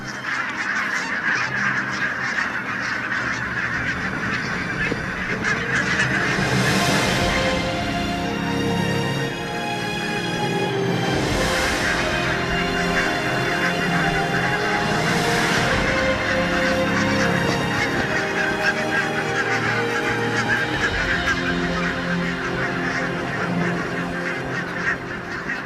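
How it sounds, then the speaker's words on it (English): A large flock of barnacle geese wintering on farmland honks continuously, a dense overlapping clamour of many birds with swells of louder calling throughout. "Barnacle geese."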